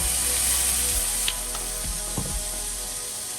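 Shrimp drop into a pan with butter and lemon juice and sizzle steadily, a loud frying hiss with a few scraping and clinking knocks from the pan, no talking.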